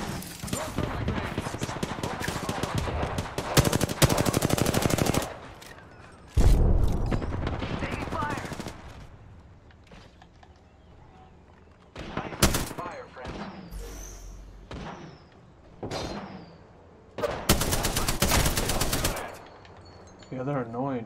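Automatic gunfire in the video game Apex Legends, repeated loud bursts and rapid volleys with a booming hit, broken by quieter stretches, while a player talks intermittently.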